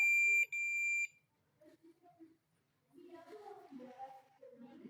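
A multimeter in continuity mode gives two short, shrill beeps while testing a Suzuki GS motorcycle self-starter armature, followed by quiet handling noises and then someone speaking.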